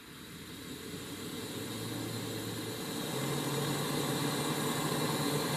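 A steady, close hiss and roar from a Campingmoon XD 2F camping gas stove burner opened to full flame, growing noticeably louder partway through and continuing alone without speech.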